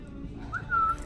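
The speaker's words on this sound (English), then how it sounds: "I think your whistling is making them go away from us." Someone whistles two brief high notes inside a Target store, soft against a low murmur of indoor background noise.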